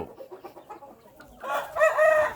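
A Thai game fowl rooster crows loudly in a pen, a single drawn-out call in the second half after softer clucking and scratchy farmyard noise.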